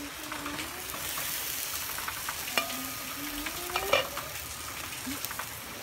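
Batter poured onto a hot pan crackles with a soft, steady sizzle, joined by a few faint scrapes and light taps of utensils against the pan.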